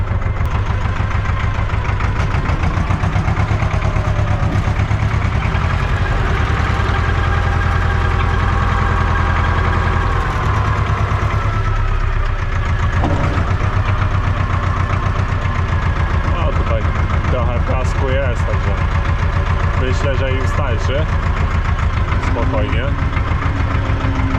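Tractor engine running steadily during building demolition work on a farm, a loud low drone with constant vibration under the cab, while someone talks over it throughout.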